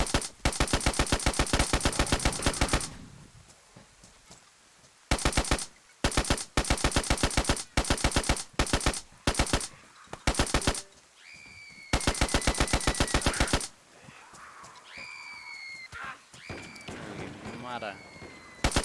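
Automatic gunfire in the survival game DayZ, long rapid bursts of close, loud shots broken by short pauses, with a few single cracks and a voice speaking in the gaps between bursts.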